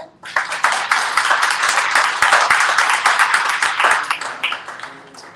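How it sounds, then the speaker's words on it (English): Audience applause fills a Busboys and Poets Books author event in Washington, a steady wash of many hands clapping at close range that swells quickly and holds for about five seconds before thinning out. "let's give them a round of applause"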